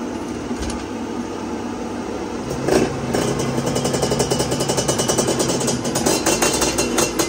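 A motorcycle engine revs on a dyno in a tuning workshop, loud and close, rising from a rough idle into sustained revving with a fluttering, clattering pulse, with no clear talk.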